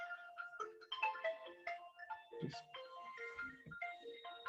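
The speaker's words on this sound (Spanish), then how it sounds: "es que sonaba el teléfono" A telephone ringtone plays alone in a quiet room, a melodic electronic tune of repeating tonal notes running the whole time at moderate loudness.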